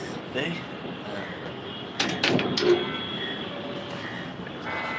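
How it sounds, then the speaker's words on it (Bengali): A wooden door is pushed firmly shut, giving a close knock-and-latch thump midway through a quiet room with a faint hum of background noise. "আগে দরজাটা ভালো করে লাগাই"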